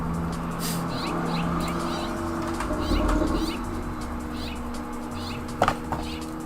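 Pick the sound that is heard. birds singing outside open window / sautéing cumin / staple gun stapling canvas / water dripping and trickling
birds singing outside open window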